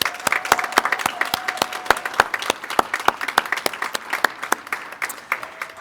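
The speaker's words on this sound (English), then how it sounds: "One more round of applause." Audience applause at a 2021 practical nursing graduation ceremony at Central Lakes College, a room full of distinct, crisp claps continuing steadily for several seconds at a moderate distance.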